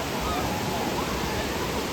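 Ocean waves at a beach on a family trip, a continuous broad wash of surf roaring steadily and fairly loud throughout, with no clear separate breaks.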